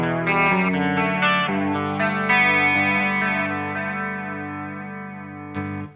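Enya Inspire carbon fiber smart guitar with a built-in speaker, switching between effect presets: sustained strummed chords change tone with distortion and chorus coloring, and a final chord rings out and fades.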